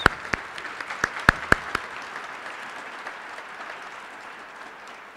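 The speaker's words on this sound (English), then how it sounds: "Let's give these individuals a round of applause." Audience at the 2025 Kentucky Teacher of the Year celebration applauding, opening with a few loud, distinct claps close by, then settling into a fainter, steady patter of clapping from the wider room.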